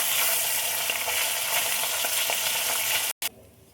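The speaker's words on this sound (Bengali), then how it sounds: "মাছটা আর একটু ভাজার জন্য উঠে দেবো" Fish sizzles loudly in hot oil in a wok, a dense steady crackle with faint stirring, then abruptly cuts out near the end and leaves a quieter background.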